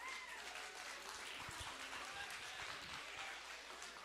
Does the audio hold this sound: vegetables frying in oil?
no